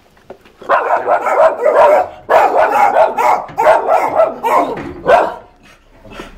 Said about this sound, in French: Jamais vu un endroit avec autant de chiens.